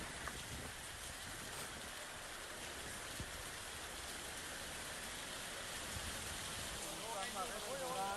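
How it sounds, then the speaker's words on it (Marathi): Heavy, cloudburst-like monsoon rain pours down on Uttarayan village in Erandol taluka, a dense, steady roar of downpour that stays loud and unbroken throughout. "एरंडोल तालुक्यातील उत्तरायण गावात ढगफुटी सदृश्य पाऊस झाला."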